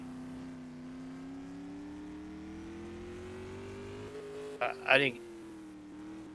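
A supermodified race car runs a time trial lap at Madera Speedway, its engine droning as a steady, slightly rising hum at a distance, while a commentator talks over it with brief louder bursts.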